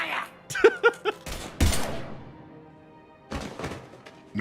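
Gunfire in Mass Effect 3: a few sharp shots and thumps, then a heavy blast with rumbling decay, another short burst later, mixed with brief spoken voices.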